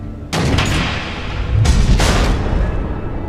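Missile explosions in the Batman Telltale video game: two heavy booming blasts about a second apart, each followed by a long roaring rumble that fills the mix, with no voices.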